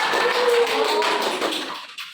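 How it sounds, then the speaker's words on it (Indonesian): A school class claps for about two seconds in a dense, steady burst of many hands applauding together, which then stops abruptly. "Ya, tepuk tangan ya."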